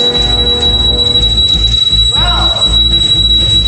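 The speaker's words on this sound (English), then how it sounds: "Why's the alarm going off?" A home alarm goes off indoors, sounding a continuous piercing high-pitched tone that stays steady the whole time. A loud low rumble and shifting noises sit beneath it.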